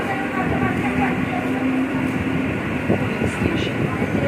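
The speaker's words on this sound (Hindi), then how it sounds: "तो फाइनल मेरा ट्रेन आ चुका है," A Mumbai local train pulls in at a busy station, its steady rumble and wheel noise filling the scene with a faint high squeal, while people talk nearby throughout.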